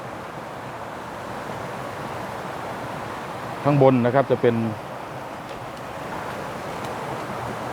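A waterfall on Khao Suan mountain in Rayong, at a headwater stream, gives a steady, even rushing of water. Someone speaks briefly midway over it.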